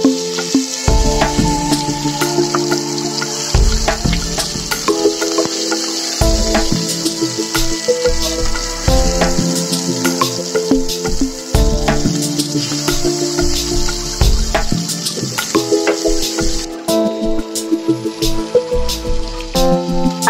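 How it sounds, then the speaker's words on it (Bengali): Tandoori chicken pieces fry in a pan over low-medium heat, giving a steady bright sizzle and crackle throughout, with occasional tonal clinks and utensil sounds layered on top; nobody speaks. "দেখুন তারপর ধীরে ধীরে লো মিডিয়ামে সেটাকে ভালোভাবে ভেজে নিতে হবে।"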